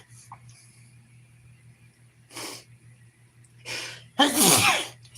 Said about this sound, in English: I'm going to start sneezing in a minute.